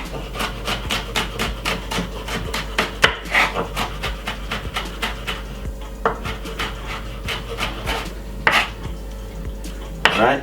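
A knife chops white onion and red pepper finely on a cutting board, giving a quick series of crisp, closely spaced taps with brief pauses in between.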